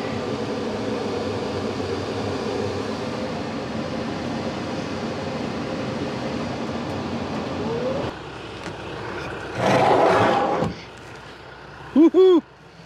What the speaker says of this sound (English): this will allow me to talk to you while we're running the tractor and plowing some snow